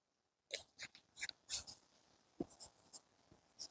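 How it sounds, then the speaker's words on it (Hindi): A math question is written out by hand in a Class 7 exponents lesson, with short scratchy pen strokes in quick bursts, close and quiet with no talking. "चलिए क्वेश्चन लिखते हैं।"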